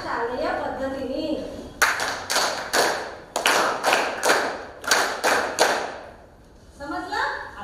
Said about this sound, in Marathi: आता आपण मस्त टाळ्या वाजवूया